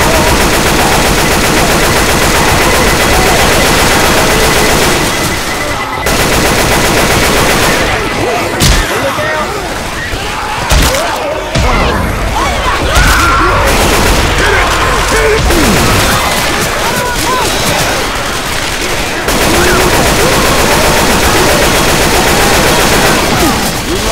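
Dense game gunfire and explosions from Left 4 Dead 2 as a pipe bomb goes off amid a firefight, loud and continuous throughout with bursts of automatic fire, crashes and booms layered over each other.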